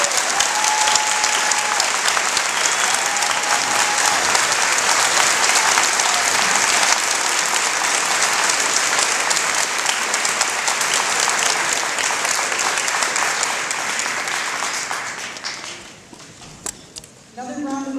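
A large high school awards night audience applauds recipients in a long, loud, sustained wash of clapping that fades out near the end, leaving a few scattered claps and murmuring voices.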